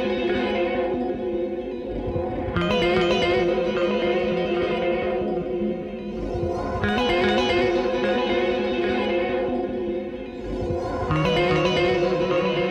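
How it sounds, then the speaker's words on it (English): A trilled chord rings out through heavy reverb and delay, its fluttering notes blending into a dense, sustained wash that swells in three waves, with no talking. "with the reverb and delay you do end up hearing all the notes ringing out together"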